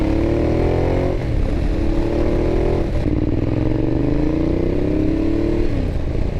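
A 2012 Ducati Diavel motorcycle rides along a bumpy road, its engine loud and close, revving up through repeated rising pulls with brief dips between gear changes.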